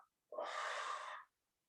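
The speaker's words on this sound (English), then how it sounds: "Breathe out." A single long breath pushed out during a yoga class, a close, steady airy rush of about a second, breathy and even, alone in a quiet room.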